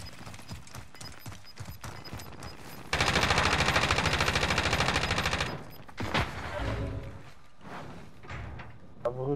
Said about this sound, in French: Si tu joues avec la Scar, là tu t'arraches les tympans.